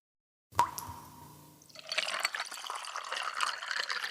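Water poured into a glass: a sharp clink at the start, a thin trickle, then a steady, close splashing fill that runs on without pause, with no talk.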